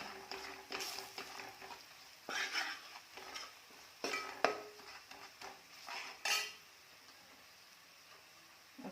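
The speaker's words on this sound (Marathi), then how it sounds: "कोल्हापुरी कांदा लसूण मसाला मसाला घालून तेलात छान परतून घ्यायचं" Kolhapuri onion-garlic masala sautéed in oil makes a soft sizzle broken by irregular scraping and clinking of a spoon against the pan, loud in bursts and quieter between them.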